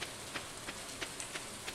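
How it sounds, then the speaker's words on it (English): Steady rain pours down in a farming video game, a dense even hiss with faint scattered droplet ticks, continuous and without any voices. "Well, it's raining."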